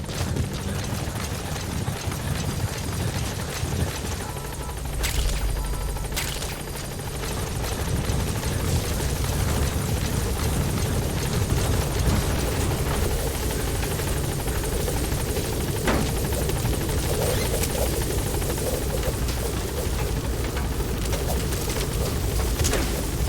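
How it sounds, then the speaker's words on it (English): Support helicopter arriving in Metal Gear Solid V: The Phantom Pain, a loud continuous rotor thrum and turbine whine that holds steady at close range throughout. "Support helicopter has"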